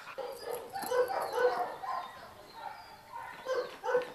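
A dog makes whimpering, yipping sounds in short bursts at moderate distance, fairly faint and intermittent across the moment.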